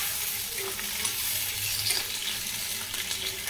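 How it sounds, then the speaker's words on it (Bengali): Okra being stirred and fried in hot oil in a pan, a continuous close sizzle with soft scraping of the spatula mixed in, steady and fairly loud throughout. "দেখতেই পাচ্ছেন ঢ্যাঁড়সগুলোকে আমি কি সুন্দর করে এপার ওপার করে নাড়িয়ে দিচ্ছি"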